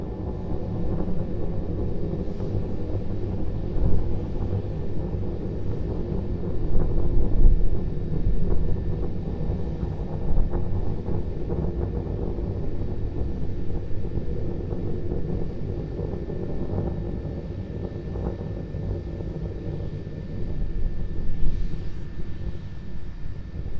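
Distant rumble of SpaceX Starship SN9/SN10 prototype rocket engines during a test flight, a continuous low roar with wind noise that swells and fades over time.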